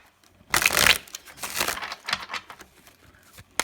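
Tarot cards being shuffled by hand, a brisk papery riffle followed by softer rustling and flicking, close and moderately loud, with no voices.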